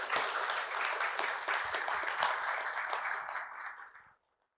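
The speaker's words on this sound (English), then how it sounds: "I'd love to get a round of applause for the panel here for the first part." An audience applauds a discussion panel with a dense patter of clapping from many hands that holds steady for about four seconds and then fades out quickly into silence.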